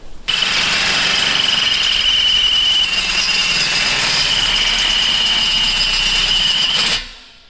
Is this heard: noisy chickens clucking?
no